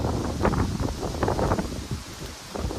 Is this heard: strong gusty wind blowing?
yes